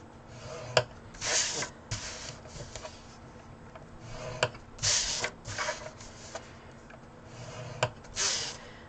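Card stock for a gift box is scored at one inch with a tool, giving soft rasping scrapes in short bursts spaced a few seconds apart, faint and close, with quiet handling sounds between them.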